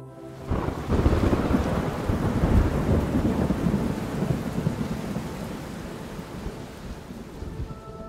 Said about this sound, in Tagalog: Malakas pa rin ang ulan doon